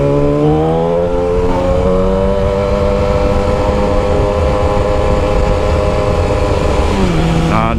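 Yamaha R6 sport motorcycle with a long custom exhaust holding a loud, steady revving drone close by, rising harmonics throughout, then the engine note drops and shifts near the end.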